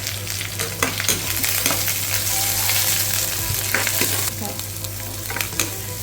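Chopped shallots sauté in a pan for uppumavu, a steady broadband sizzle with occasional stirring scrapes, loud and close, under a constant low electrical hum, with no voices.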